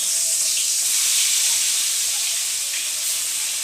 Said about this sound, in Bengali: মাছটা ভাজা করে দিচ্ছি